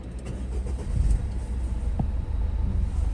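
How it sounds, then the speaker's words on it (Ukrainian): A 2014 Renault Koleos 2.0 diesel engine cranks briefly and catches with a low rumble, then settles into a steady idle close by. "Слухайте, як бадьоро заводиться двигун."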